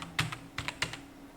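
Fingers tap out a short burst of clicky keystrokes on a computer keyboard while data is entered into Excel cells, close and fairly quiet, with about five separate presses and no talk.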